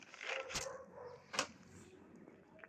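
A street dog gives two short, sharp barks a moment apart, fairly faint, with quiet surroundings between them.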